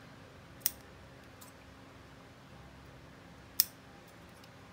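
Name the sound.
scissors cutting a V into ribbon tails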